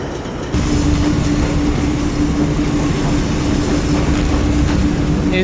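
The 122 DN Ravi Express rolls along the tracks between Lahore and Shorkot in hot weather, giving a loud, continuous rumble with a steady hum, heard from inside a coach.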